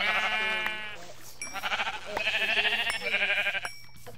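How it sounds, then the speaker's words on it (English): Sheep bleating in a Minecraft-style survival video game, several wavering bleats in a row, close and clear with short gaps between calls and no talking. "we have a sheep out here"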